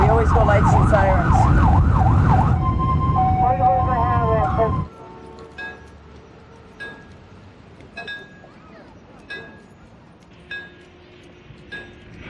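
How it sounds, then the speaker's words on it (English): An ambulance siren wails loudly in a rising and falling pattern, then shifts to a faster yelp before cutting off, leaving quiet clinks and brief knocks. "So we always go lights and sirens."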